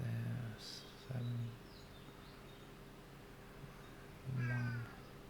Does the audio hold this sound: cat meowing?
yes